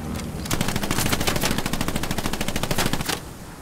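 Rapid automatic gunfire in the Omaha Beach D-Day battle of the World War II shooter Hell Let Loose, a loud sustained burst of closely spaced shots lasting about two and a half seconds, with steady background battle noise before and after.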